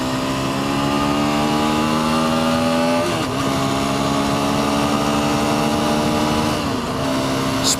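An Aprilia RX 125 motorcycle being ridden on the road, its engine droning loud and close at steady revs, with two brief dips and rises in pitch like gear changes.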